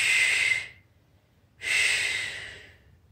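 Two deep, long exhalations during a yoga practice, each a close, airy rush of breath lasting under a second, separated by a quiet pause, with no talk.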